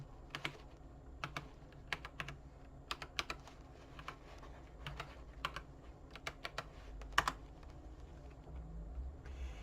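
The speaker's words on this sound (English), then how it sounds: "And then I'm going to type in my password." Typing on a computer keyboard while entering a password, a steady run of sharp key clicks in short bursts with brief pauses, close and fairly quiet over low room hum.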